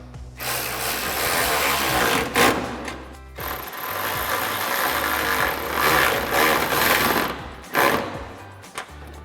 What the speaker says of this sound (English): you can go ahead and tighten them down using your 10mm socket